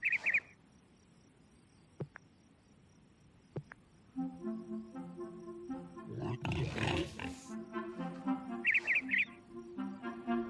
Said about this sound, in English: The birds are awake before anyone.